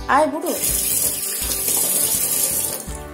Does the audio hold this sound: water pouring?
yes